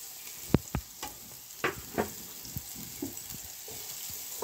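Chopped onions fry in a pan under a constant hiss, broken by a series of sharp spatula knocks and scrapes, loud at first and then lighter and spaced out.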